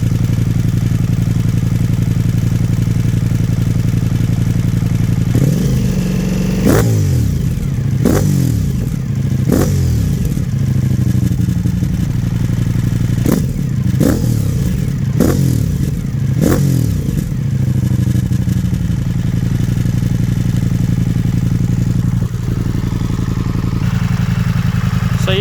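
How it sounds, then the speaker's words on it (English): A 2025 Ducati Pikes Peak motorcycle idles loudly up close, its exhaust note swelling through a series of about five sharp throttle blips that rise and fall over a steady engine rumble. "Somebody said they wanted me to just have a little bit more of an exhaust note"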